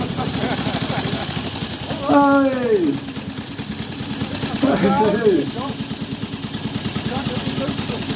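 A motorcycle engine idles steadily at an outdoor motorcycle show with an even, close chugging pulse throughout, while people talk briefly over it.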